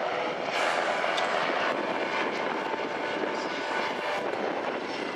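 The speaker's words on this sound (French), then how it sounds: "C'est un hélicoptère extrêmement manœuvrant," A Tigre attack helicopter flies at an air show at Rennes Saint-Jacques, its rotor and turbine roar loud, steady and broadband throughout with faint rhythmic blade chop.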